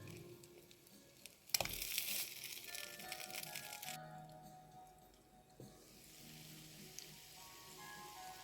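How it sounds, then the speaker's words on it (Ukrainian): Chopped chicken fillet cutlets fry in a pan, giving a faint hiss and sizzle with a louder burst of crackling early on, then a softer, steady sizzle. "Смажити потрібно під кришкою з двох сторін до золотистого кольору."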